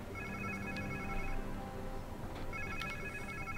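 A phone in Marvel's Spider-Man 2 video game gives two faint electronic ringing bursts separated by a short pause, set against a steady low ambient game rumble, with no talking.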